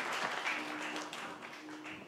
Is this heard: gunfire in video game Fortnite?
no